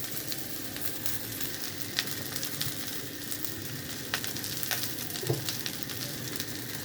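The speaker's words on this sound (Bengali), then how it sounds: "এক এক করে এরকমভাবে আমি সবগুলা ডিম ভেজে নিতেছি।" Eggs fry one at a time in hot oil with a pinch of salt for an egg, potato and tomato curry, giving a steady, close sizzle with a few faint pops and clicks throughout.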